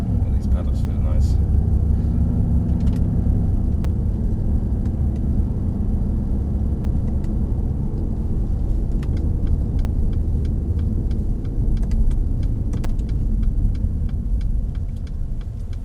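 A Mercedes-AMG SL63 driven on the Mercedes-Benz World race track, its engine a loud continuous rumble from inside the cabin with people talking over it throughout.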